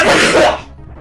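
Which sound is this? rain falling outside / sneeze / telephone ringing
sneeze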